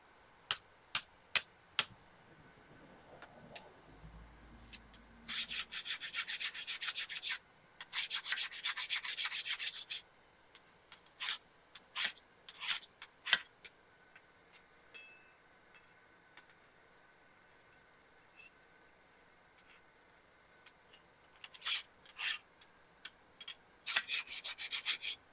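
A dirty forged axe head is scrubbed by hand in short, quiet bursts of rough rubbing. Between them come scattered sharp ticks and taps, with brief pauses throughout.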